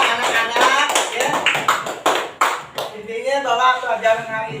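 Classroom of students clapping hands together, a run of sharp uneven claps for a couple of seconds, with a teacher's voice speaking over and after them.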